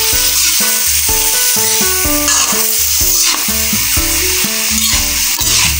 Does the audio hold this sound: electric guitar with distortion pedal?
no